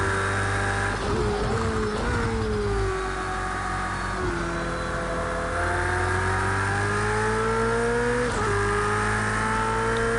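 Race car engine in Project Cars 2 at Donington, droning loud and constant, pitch climbing and dropping with gear changes and a few lifts, with no voices.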